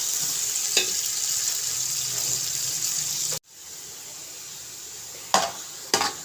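Onions fry in oil until golden for chana rice, a steady hissing sizzle that breaks off abruptly, resumes more softly, then is joined by a couple of sharp clatters near the end.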